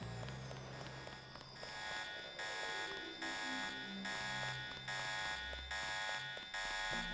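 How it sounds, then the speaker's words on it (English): A steady electronic alarm blares through the stealth shooter Deus Ex, repeating in regular on-off pulses under layered game music and effects, loud and continuous throughout. "And there's an alarm on."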